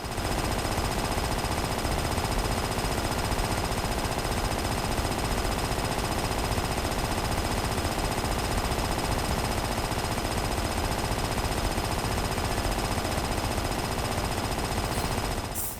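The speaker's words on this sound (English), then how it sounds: "Three whole minutes of jackhammer sounds." Continuous, loud jackhammer-like pounding from the Wii game Disaster: Day of Crisis, a dense rapid hammering that runs unbroken and steady throughout, with no speech.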